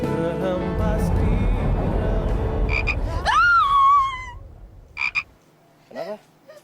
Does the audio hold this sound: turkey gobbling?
no